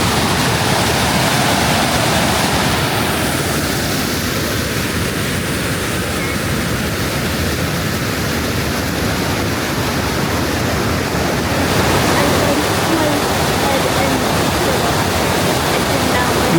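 Multnomah Falls in Oregon pours down on a foggy day, a loud, constant broadband roar of falling water filling the whole stretch without a break.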